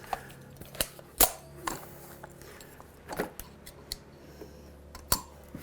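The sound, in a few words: caulking gun cutter snipping off caulk tube tip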